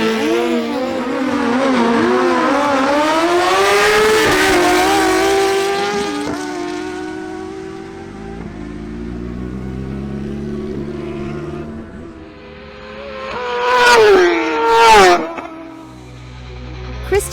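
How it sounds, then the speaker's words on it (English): A Suzuki GSX-R1000 and a Suzuki GSX-S750 launch side by side in a drag race, their engines screaming and climbing through gear changes as they pull away. Later, sharp revving bursts come close. A voice is faintly heard. "Next up, Andres Camargo on his Suzuki GSX-R1000 faces Christian Alcala on his Suzuki"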